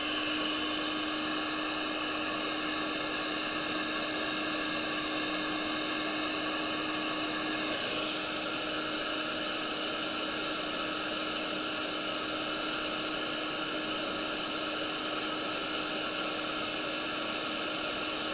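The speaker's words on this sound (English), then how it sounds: "I'm going to quickly get the hairdryer on this so the light isn't reflecting and distracting the colours." A hairdryer blows steadily on fresh acrylic paint, a loud continuous whooshing hum with a slight shift in tone partway through, heard alone.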